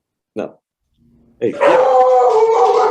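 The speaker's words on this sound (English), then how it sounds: "That's my dog going crazy." A pet dog barks and howls excitedly in a home to greet a family member arriving, a short yelp followed by sustained loud howling close by, with brief speech at the start.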